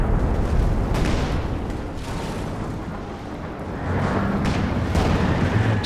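Mortar rounds firing and exploding in the video game Company of Heroes 2 during a 2v2 match: heavy rumbling booms roll one after another, loud and close, with thick low-end blasts and no talk.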